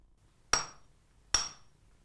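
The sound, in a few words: swordsmith hammering iron rod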